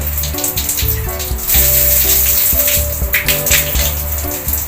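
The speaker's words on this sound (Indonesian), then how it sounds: "Bisa dites, dibuka keran showernya." Water gushing from the shower tap of a simple homemade water heater, a loud, continuous spray with splashing surges, heard against tonal background music and with no one talking.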